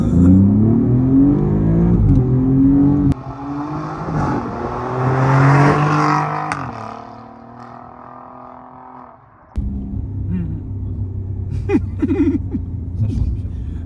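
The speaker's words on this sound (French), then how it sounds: "Mais c'est ces bruits de moteur italien, là." A 510 hp Alfa Romeo Giulia Quadrifoglio accelerating hard through the gears, its engine climbing in rising sweeps with sharp shift breaks, heard from inside the car while occupants talk.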